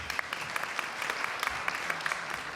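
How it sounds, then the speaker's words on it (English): Applause from the audience at an evening district community meeting, a steady spread of many hands clapping at moderate volume with a few sharper individual claps standing out. "give them a round of applause."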